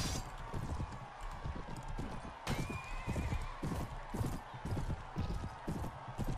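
Horses in the medieval battle game Mount&Blade Warband gallop with fast, steady hoofbeats, and a single whinny breaks through midway; dense, continuous and fairly loud, with no talking.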